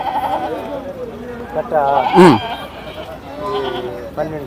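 Goats bleat at a livestock market in Gudur, several wavering cries rising and falling, one loud and near, heard among people talking nearby.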